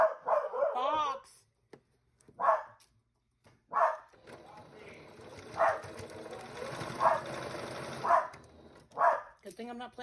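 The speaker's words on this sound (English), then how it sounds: "She wouldn't stop barking long enough." A dog barks repeatedly in short separate bursts from a nearby room while a sewing machine whirs steadily underneath, with a person talking and calling out at the start.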